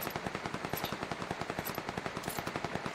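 Rapid automatic gunfire in the battle royale game PUBG Lite, a fast continuous burst of evenly spaced shots at moderate distance, with no talk over it.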